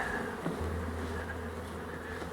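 Honeybees buzz steadily in an outdoor apiary where hives are being set up for fall, a continuous close drone with a low hum coming in partway through.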